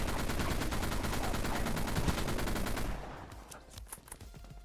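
Aftershock HMG heavy machine gun in Dead Frontier fires a rapid, loud, evenly spaced burst for about three seconds, then stops, leaving scattered lighter clicks and impacts.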